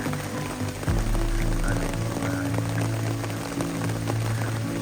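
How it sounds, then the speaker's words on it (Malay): Steady rain falls on an uninhabited island, a dense hiss of drops that stays constant, with a low rumbling layer underneath that thickens after the first second. "Hujan!"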